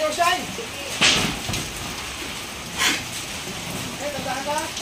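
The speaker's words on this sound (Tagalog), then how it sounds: "Kahit umuulan guys." Rain patters steadily onto a farm roof with holes over a pig pen, a constant wash with a few louder splashes and some people talking faintly in the background.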